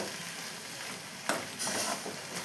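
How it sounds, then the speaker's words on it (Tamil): Poured peanuts are stirred in a hot pan, a steady dry sizzle and frying hiss broken by a few brighter scraping sweeps of the spoon. "கொட்டி இதை நல்லா கலந்து விட்டுக்கலாம் ஒரு 2 செகண்டு"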